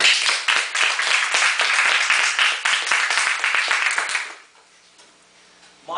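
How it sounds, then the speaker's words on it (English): Audience applause at a college speech, a dense burst of clapping from a crowd that keeps up steadily for about four seconds and then stops abruptly, leaving near silence before a brief sound at the end. "applause for Pratyush."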